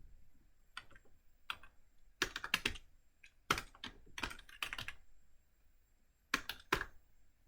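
Typing C++ code on a computer keyboard: clustered bursts of key clacks in irregular runs, separated by short pauses, close and fairly quiet, with no voices.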